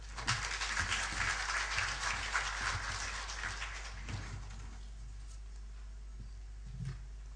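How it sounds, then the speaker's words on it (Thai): Audience at a tourism-authority seminar gives a steady round of applause for a guest speaker, a moderately distant, even patter of many hands that fades out over several seconds, with a low hum underneath. "ขอเสียงปรบมือด้วยครับ"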